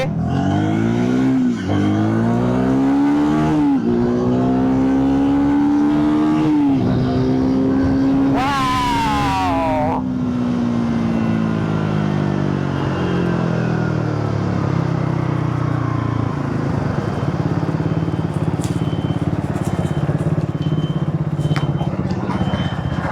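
A Triumph Speed 400 motorcycle engine revs hard and climbs through several gears, loud and close, then eases into a steady rumble with passing road noise in traffic.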